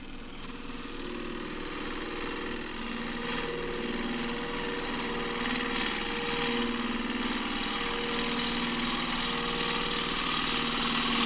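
A wood lathe turns a thin ash bowl at about 1500 RPM, giving a steady close motor hum with a layered whine and faint tool scraping that holds throughout.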